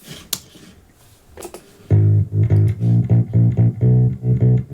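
Bass line with its stereo bass frequencies stripped out by a Brainworks BX1 plugin, entering after a quiet lead-in as a steady, loud, pulsing low-end pattern of repeated notes.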